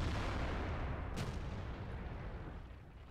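A tank gun firing in World of Tanks, a single deep booming shot with a sharp crack, followed by a rumbling tail that slowly fades.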